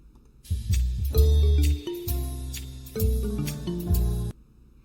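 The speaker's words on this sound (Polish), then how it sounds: "mamy też tutaj dosyć taką relaksacyjną muzykę" Gentle synthesized background music from an online language-learning game plays alone: soft melodic phrases over low sustained tones, moderately loud, fading out at the end.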